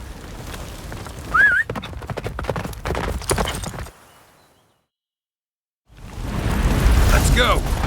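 Roach the horse galloping in The Witcher 3, steady clip-clop hoofbeats close up amid wind and battle noise, cutting out briefly to near silence before the gallop resumes, with a neigh heard early on.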